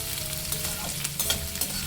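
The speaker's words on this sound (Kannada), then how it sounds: "ಇದೆಲ್ಲನೂ ಇವಾಗ ಮೀಡಿಯಮ್ ಫ್ಲೇಮಲ್ಲಿ ಈರುಳ್ಳಿದು ಹಸಿ ವಾಸನೆ ಹೋಗೋ ತನಕ ಮತ್ತು ಈರುಳ್ಳಿ ಒಂದು ಸ್ವಲ್ಪ ಸಾಫ್ಟ್ ಆಗೋ ತನಕ ಹುರ್ಕೋಬೇಕು." Onions and curry leaves frying in a pan on a medium flame, giving a steady close sizzle with light stirring scrapes and no talk.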